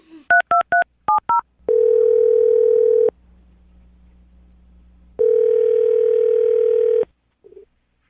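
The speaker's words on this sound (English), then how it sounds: "I'm going to dial the phone number right now" Telephone keypad beeps as a number is dialed: two quick bursts of touch-tones, then a steady dial-type tone, a stretch of quiet line hum, a second long tone and a short click at the end. No talking.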